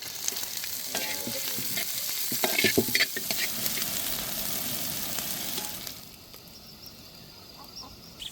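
Green chillies, curry leaves and large onions fry in hot oil, making a loud, dense sizzle with crackling bursts and stirring for about six seconds before the sound drops to a quieter hiss.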